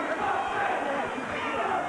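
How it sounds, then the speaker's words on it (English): Animated crowd at a boxing match between Keith Knox and Jose Garcia, a steady roar of cheering and chatter during the last round, with a commentator talking over it. "The crowd are getting animated"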